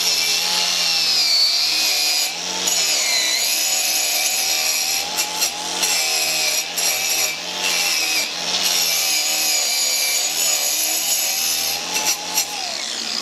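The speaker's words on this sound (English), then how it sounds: "The best way to clean it is a wire brush and a drill." A wire brush spun by a drill scrubs a BSA motorcycle engine case, giving a loud, harsh whirring grind in repeated bursts with short pauses between passes.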